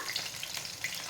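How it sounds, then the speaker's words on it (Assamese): Fish frying and spattering in hot oil with cumin, coriander and dry chilli, a close, steady hiss with small popping crackles over a brief moment. "তাৰপিছত মাছটো বৰ ফুটিছে, মোৰ ডিঙিয়ে মুখে পৰিছে"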